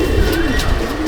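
High-flying Rampuri pigeons cooing inside a loft at Laxmikantapur, a short burst of soft, throaty coos from nearby birds with no talking.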